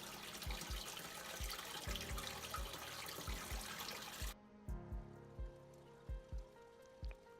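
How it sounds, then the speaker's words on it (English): Water from a saltwater mixing tank, moved by a pump into an aquarium, rushes and splashes steadily, with repeated low thumps or gulps at a fairly regular pace. The rushing stops halfway through while the thumping goes on. "Plug in the pump and the water starts to go into the aquarium."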